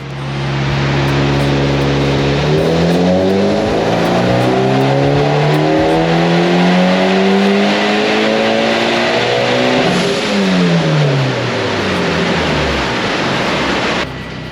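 A Mitsubishi Evo X with bolt-on parts on 91 octane fuel revs hard on a dyno, its engine note climbing steadily through the gears, loud and close, then dropping back near the end.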